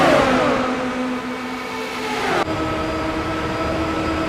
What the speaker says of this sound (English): it's a lot calmer sound in the interior of these cars compared to what we hear on the exterior